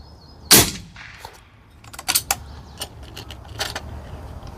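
An Airforce Condor air rifle fires Super Sonic slugs at targets: one loud, sharp crack early on, then a quick series of lighter, close snaps and metallic clicks spaced over the next couple of seconds.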